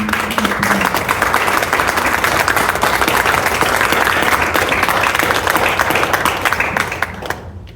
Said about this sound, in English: So I want a round of applause for Holly Bryant.